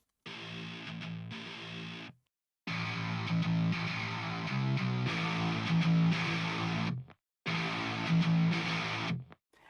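A heavily distorted metal passage produced in FL Studio, with chugging guitar chords and bass played in loud bursts separated by abrupt silent gaps, forming a stop-start transition with no voices.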